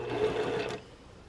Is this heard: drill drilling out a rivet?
no